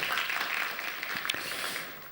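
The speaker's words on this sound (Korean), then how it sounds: "우리 한번 격려의 박수 한번 할까요?" A church congregation gives faint, brief applause after the choir's hymn, a soft wash of distant clapping that fades out.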